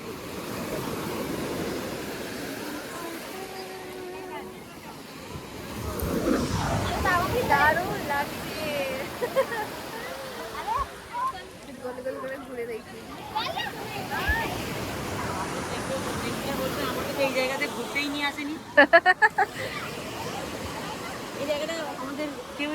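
Sea waves breaking at Mahim beach in Mumbai make a constant broad wash of surf with occasional louder surges, while people talk over it.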